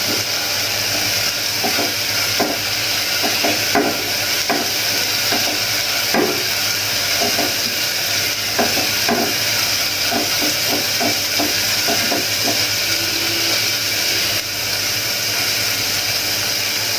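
Onion and small shrimp sizzling and frying in a pan with steady hiss and intermittent stirring scrapes, loud and close throughout without speech.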